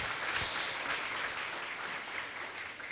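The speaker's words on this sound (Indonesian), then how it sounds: "Kita boleh tepuk tangan untuk Bante Utamo Mahathera." Steady applause from a crowd, a dense wash of clapping at even loudness throughout, somewhat muffled.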